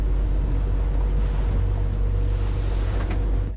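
Strong wind and heavy swells buffet a sailboat at sea in the Malacca Strait, making a loud, steady, unbroken roar of wind and water for the whole stretch.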